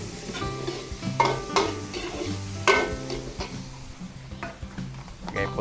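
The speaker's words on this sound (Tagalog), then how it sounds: "Luto-lutuin lang po muna natin yung ating bawang. Lagay na po tayo sibuyas." Garlic and onions sauté in a pan with steady sizzling, while a utensil stirs and clinks against the pan in a few scattered strokes. No one speaks.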